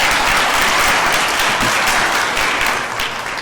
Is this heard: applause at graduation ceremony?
yes